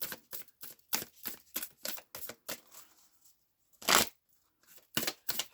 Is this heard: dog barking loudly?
no